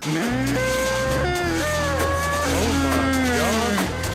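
Cows low loudly in long drawn-out moos, with several overlapping calls rising and falling. The calls are close and continuous over a dense background.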